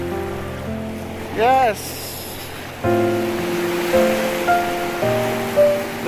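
Ocean waves breaking on a beach shore, a steady broadband wash of surf running through the clip beneath a voice and a few tonal, whistle-like sounds.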